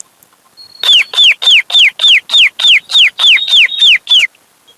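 A person imitates a chick's cheeping with about a dozen quick, evenly spaced high peeps, loud and close, with no talking.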